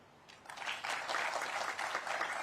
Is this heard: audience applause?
yes